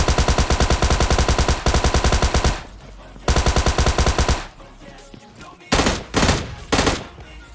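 Video game gunfire: long sustained bursts of rapid automatic shots, loud and close, separated by short pauses and followed by a few shorter bursts near the end, with no talk.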